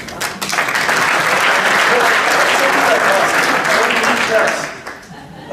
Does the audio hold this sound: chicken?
no